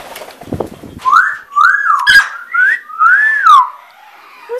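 A pet bird in a large indoor aviary whistles a series of clear, rising and falling tonal notes in short phrases, loud and close, with no voices.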